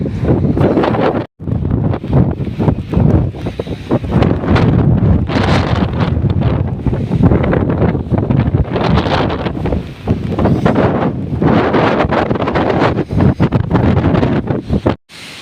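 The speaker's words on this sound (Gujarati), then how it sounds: "પવન બી બહુ છે." Strong wind roars and buffets the microphone nonstop, loud and close, with brief gusting dips and no voices.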